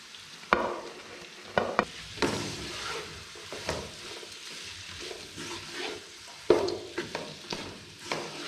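Capsicum and carrots fry in a pan for vegetable biryani, with a soft sizzle under intermittent sharp scrapes and clatters of a spoon stirring against the metal.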